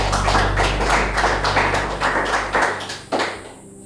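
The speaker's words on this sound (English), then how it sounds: "Can we clap for ourselves?" A group of students applauding themselves at the close of a ceremony, a dense roar of many hands clapping steadily under a low hum before tapering off.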